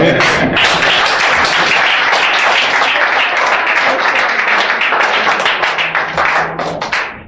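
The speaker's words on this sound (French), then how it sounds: "Et va applaudir à Jésus" A church congregation breaks into loud, sustained applause at a worship service, dense clapping filling the room for several seconds before tapering off, with voices mixed in.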